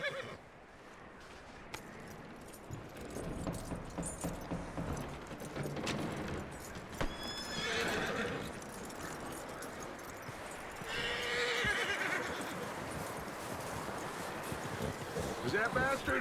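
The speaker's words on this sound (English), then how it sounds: "That looks like a decent horse." Horse neighing and whinnying with clip-clopping hooves in the Red Dead Redemption 2 video game, heard over a steady outdoor wind-like ambience with repeated calls across the clip.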